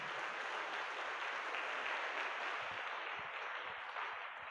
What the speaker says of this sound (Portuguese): Vamos aplaudir Jesus aí pela vida dos meninos.